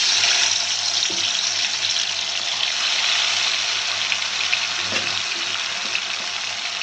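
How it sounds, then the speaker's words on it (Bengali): Fish frying in hot oil in a home kitchen, a steady broadband hiss and sizzle that runs evenly and fairly loud for the whole stretch, with a faint low hum beneath. "এই যে তেল গরম হয়ে গেছে, মাছ দিয়ে দিতেছে"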